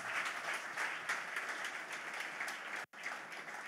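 A church congregation breaks into steady, dense applause that fills the room at close range, continuing evenly with one abrupt momentary dropout near the end before the clapping resumes.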